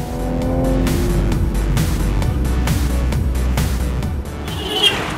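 An Audi S5 drives on bad roads, its engine a loud steady drone with rumbling tyre and road noise throughout, easing slightly near the end.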